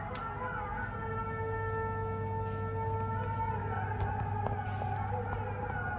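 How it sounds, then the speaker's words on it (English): Islamic call to prayer from a mosque in Istanbul, Turkey, a sustained melodic chant drifting from a distance over a steady low city hum, continuous for the whole stretch. "I'm still shocked that here in Turkey there are like some prayer calls or so"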